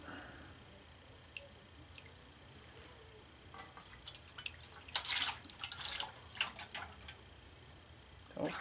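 Molten gold poured from a pot with no spout into block molds, faint crackling and sizzling bursts that build midway through and come and go, over a quiet background.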